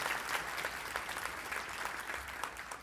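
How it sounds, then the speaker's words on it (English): Audience applause at a live speaking event, a steady dense wash of clapping hands that holds at an even level for the whole stretch with no voices on top. "Big round of applause for everybody that has spoken here today"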